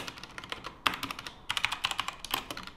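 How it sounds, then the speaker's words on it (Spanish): Typing on a mechanical keyboard fitted with red switches, a quick run of crisp, close keystrokes with small pauses, heard alone without any voices. "También escucho una reverberación al golpear un poco las teclas"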